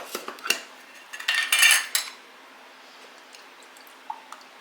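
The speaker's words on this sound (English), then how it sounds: "I think I'm going to take this knife and kind of just make sure it's mixed up in there." A knife stirs vanilla into fried apple pie filling, a few clinks and soft wet scrapes against the dish in a short burst, then near silence with a couple of faint taps.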